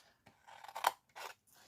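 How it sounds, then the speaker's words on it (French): Small sewing scissors make a few quick, close snips, crisp and metallic, with short gaps between them in a quiet room. "des petits ciseaux de couturière"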